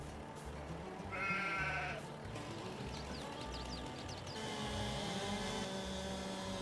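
Sheep in a Western-themed survival video game bleat a few times, one quavering bleat standing out briefly, over a faint, steady game background of scuffling and rhythmic thuds.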